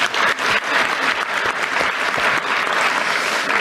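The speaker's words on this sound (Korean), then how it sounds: "박수 한번 주세요." Loud, dense audience applause at a public event, a steady burst of many hands clapping close by for several seconds, with no speech over it.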